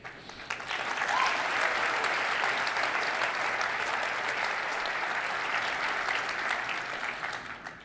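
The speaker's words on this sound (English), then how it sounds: "another round of applause for all the amazing new speakers sitting here today" A conference keynote audience gives a steady round of applause for new speakers, dense and sustained for several seconds before tapering off.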